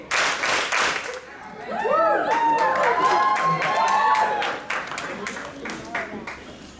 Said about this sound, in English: give 3 crisp claps to the Crisp 3